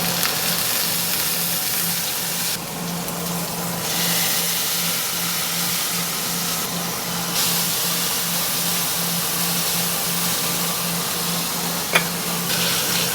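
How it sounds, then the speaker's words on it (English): Fat on the end of an NY strip steak sears in a pan coated with avocado oil, giving a steady, close sizzling hiss with a low hum beneath and one small pop near the end. "We're gonna sear the fat on the end first."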